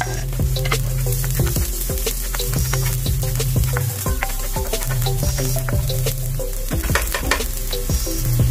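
Shrimp sizzling and frying in a pan as garlic and onion go in, a steady loud crackle with stirring scrapes throughout, no talk.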